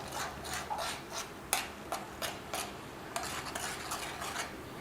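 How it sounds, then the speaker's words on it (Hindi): Onion paste frying in a pan while a spoon stirs and scrapes it steadily, producing repeated scraping strokes over a constant sizzle. The sound is close and moderately loud, with no one talking. "अब प्याज को हम करते हैं यहाँ पर फ्राई। इसको अच्छी तरह से भूनेंगे प्याज को।"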